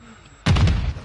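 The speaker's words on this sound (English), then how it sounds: "Throwing grenade!" A grenade explodes in a video game as a sudden, loud, close boom that hits after a quiet lead-in, then rumbles and decays briefly with a crackling tail.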